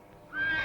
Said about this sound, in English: Quiet that horse, Pronto.